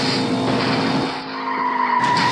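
Car drifting with tires skidding and squealing in the video game Indian Theft Auto, a loud continuous screech with engine tone underneath, easing briefly midway then rising again.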